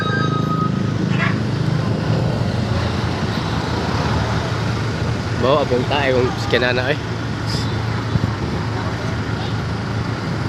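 Road traffic rumbles steadily nearby, a constant wash of engines and tyres, while people talk over it for much of the clip.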